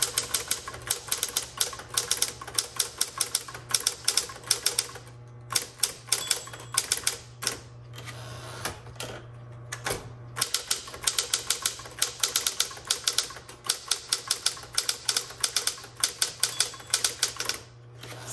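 Steady, rapid clacking of a 1960s Smith Corona Coronet electric typewriter with a constant motor hum underneath, keystrokes coming in quick bursts with brief pauses.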